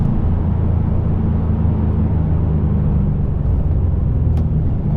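Aston Martin DBX707 SUV, 2025 model, accelerating hard on Tokyo streets: a steady, loud, deep engine rumble and road drone holds throughout from inside the cabin, with no talk over it.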